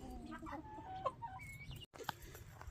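A big farm rooster named Cat clucking and calling near the microphone, a run of throaty clucks and short cries with a brief sharp call near the end.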